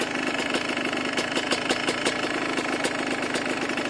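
A flooded, oil-logged two-stroke engine runs steadily while being cleared, a loud, rough, continuous buzz with irregular knocking pops and crackles throughout, no voices over it.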